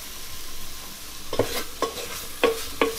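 Flour is stirred into browned vegetables in a pot for a vegetarian Guinness Irish stew, a spoon scraping the bottom in four distinct strokes with faint sizzling in the background.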